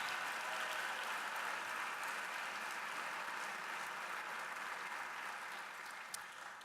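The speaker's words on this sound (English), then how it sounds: "I would like to give them another big round of applause, the graduates of class of 2013." A steady wash of crowd applause for nursing graduates at a 2013 college commencement ceremony, even and sustained throughout, tapering slightly near the end.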